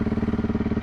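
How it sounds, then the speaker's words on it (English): A Honda CRF 300L motorcycle engine runs just after starting, a close, even rapid chugging pulse at idle, heard alone for under a second. "Let's start the bike."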